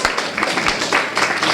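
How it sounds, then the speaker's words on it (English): Audience applause at a town hall meeting on homelessness, a dense, steady wash of many hands clapping at fairly close range for the whole short moment, with no voices over it. "round of applause for Fernando Martin"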